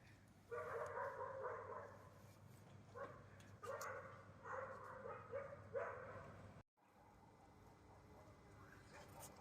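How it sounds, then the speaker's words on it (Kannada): Several dogs barking at night, repeated bursts of loud barks from a group in clusters, with a brief cut and quieter barking afterwards. "all dogs ran that side and they were started barking"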